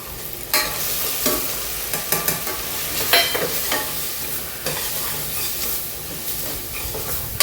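Dry spices (turmeric, sambar masala, chilli powder and garam masala) sizzle and fry in a hot pan, with a steady hiss broken by repeated scraping stir strokes, close and fairly loud with no talking.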